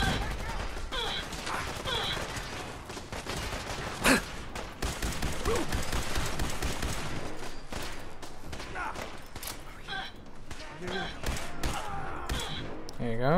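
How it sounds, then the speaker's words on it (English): Grenade blast and sustained gunfire in Fallout 4 combat, a dense, continuous barrage with a sharp thump near the four-second mark and sporadic higher crackles throughout, with a voice talking underneath. "Oh no, grenade!"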